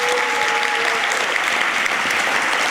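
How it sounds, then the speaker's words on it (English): An audience at an awards and scholarship ceremony claps in a sustained round of applause, loud and dense from start to finish with no speech over it. "Let's give them a round of applause."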